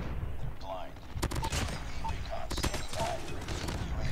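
Rapid bursts of Damascus MX9 submachine gun fire in a multiplayer shooter game, sharp clustered shots in short volleys over busy game noise, with a voice talking over the action.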